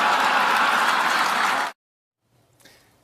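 Audience at a political event bursting into loud, dense applause for under two seconds, then cutting off abruptly to near silence with a faint trailing sound.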